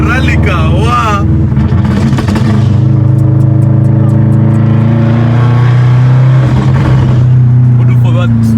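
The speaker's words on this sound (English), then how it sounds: "Rally car, wow!" A Subaru GVB rally car engine revs hard in Kenya. It gives a loud, sustained, droning engine note that rises and holds, and excited voices shout over it at the start and the end.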